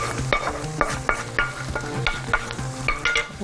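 Shrimp are stirred into molokhia in a pot, with a spoon scraping and knocking in a steady rhythm, about twice a second, over a soft sizzle close by.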